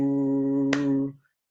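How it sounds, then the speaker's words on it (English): A single sharp hand clap in a Swazi song and dance demonstration, landing midway over a sustained, steady sung tone that fades out shortly after. "So you clap your hands, then you move to the side."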